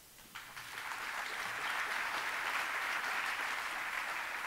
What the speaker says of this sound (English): give a big round of applause for Dougal, Matthews, and Effective Code Rev